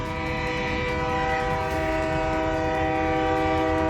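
A train sounds a loud, sustained horn as it passes a level crossing in Brasília, with rail rumble underneath and no talking.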